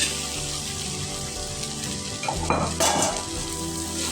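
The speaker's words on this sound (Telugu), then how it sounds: "రైస్ అంతా కలిపేటట్టుగా ఈ టమాటో ప్యూరీ అంతా కలిసి కలిపేటట్టుగా కలుపుకోవాలి" Rice being stirred into tomato puree in a hot pan, a continuous sizzle and frying hiss with scraping spoon strokes and a few clinks against the pan, close and steady with no talk.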